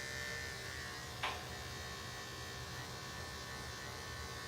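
Electric clippers shaving the inside of a Goldendoodle's ear, a faint steady buzzing drone throughout with one brief click partway through.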